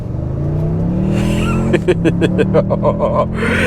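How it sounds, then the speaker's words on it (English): A 2022 Toyota Tundra Limited pickup's engine revs hard from a steady idle into loud, rising acceleration, with rhythmic pulsing as it pulls away at full throttle through its 10-speed automatic. "Let's come to a stop here and floor it."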